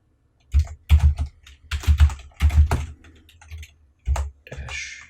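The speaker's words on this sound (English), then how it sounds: "So let's type that in." Someone types a tcpdump command on a computer keyboard, with close, distinct key clacks in quick bursts, short pauses between groups, and a final heavier keystroke.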